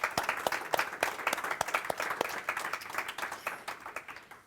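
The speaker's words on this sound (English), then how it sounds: "So let's give Ben a big round of applause." Audience applause at a fintech talk and networking event, a moderate burst of many hands clapping that holds steady for several seconds, then slowly thins and fades.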